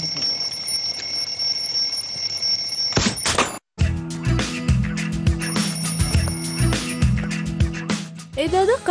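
Alarm clock ringing loudly in rapid repeated bursts, starting after a short stretch of quieter sound and cutting off briefly before ringing on.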